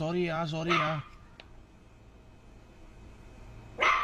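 A dog barks and yips in a short burst, then quiet, then another bark at the end, fairly close.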